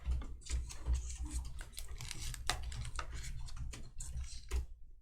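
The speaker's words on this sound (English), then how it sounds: "Why did my typing never work here?" Rapid typing on a computer keyboard, a steady patter of close, crisp key clicks with a few louder strikes, alone and with no talk.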